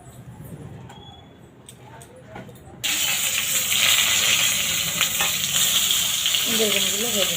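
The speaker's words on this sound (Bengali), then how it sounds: "তুলে নেবো, নিয়ে আমি বেগুনগুলো ভাজবো।" Brinjal (eggplant) slices hit hot oil in a pan at about 3 seconds, and a loud, steady hiss and crackle of frying follows, close by, after a quieter stretch of kitchen clatter.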